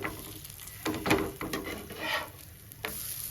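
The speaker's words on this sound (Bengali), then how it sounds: "এবার ভালো করে উল্টিয়ে দুটো পিঠে ভেজে নিতে হবে যাতে সবজিগুলো ভালো করে ভাজা হয়ে যায়" A vegetable snack of onion, carrot and beans fries in a pan, giving a steady soft sizzle with a few louder crackling bursts as it is stirred and turned. No one speaks.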